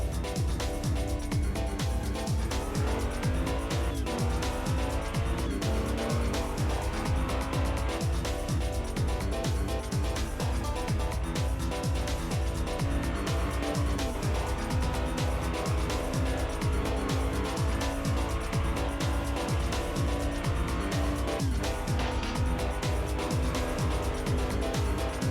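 Hot Wheels toy cars, a Mustang Mach 1 and a red Ferrari SF90, race down a track with a steady, loud rolling clatter and dense rapid ticking throughout, sounding much like racing cars.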